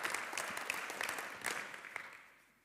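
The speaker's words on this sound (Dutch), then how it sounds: "graag een hartelijk applaus voor Hubert" An audience at a sports federation livestream event applauds a speaker, a fairly distant wash of many hands with some sharper individual claps, tapering off gradually toward the end.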